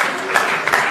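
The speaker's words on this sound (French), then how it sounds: "N'applaudissez pas, n'applaudissez pas." Crowd applause during a political speech in France, a short loud burst of clapping with bright sharp peaks, heard close and mixed with the hum of a large gathering.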